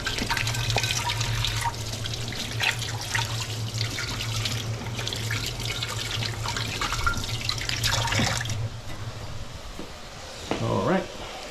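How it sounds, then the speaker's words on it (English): Hands are washed under a kitchen tap while mushroom soup is being made, with water running steadily and splashing for several seconds before cutting off near the end. "Wash my hands quick."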